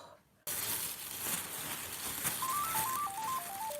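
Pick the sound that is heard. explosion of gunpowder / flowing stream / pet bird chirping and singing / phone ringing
phone ringing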